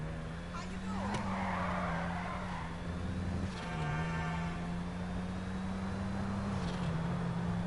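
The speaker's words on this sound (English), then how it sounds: "simply tapping the handbrake and going around the corner like this is considered drifting, and it's really not, it's just power sliding" A car power-sliding around a corner in GTA Online, steady engine drone with a tire screech midway, while someone talks over it.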